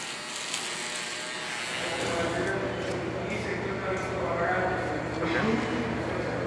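Electric razor buzzing steadily at close range while beards are shaved for a safety rule at a natural gas and oil field, a continuous dense hum filling the whole stretch with faint background activity.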